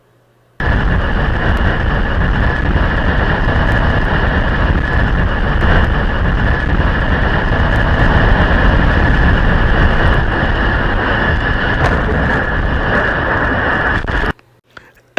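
Simulated FedEx Flight 80 cargo jet crash on landing in a pilot sim game: a loud, continuous roaring rumble with broadband noise that holds steady for about fourteen seconds, then cuts off abruptly, with no talking.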